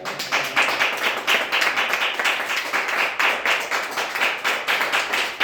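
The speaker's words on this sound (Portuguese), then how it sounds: "E as palmas louvam a Deus." Congregation clapping hands in rhythm during a church worship service, a steady pulsing beat of many hands, close and sustained throughout.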